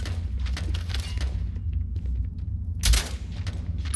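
Steady low rumble of background noise in the video game Starfield with a single loud gunshot crack near the end; a faint earlier burst may be distant fire.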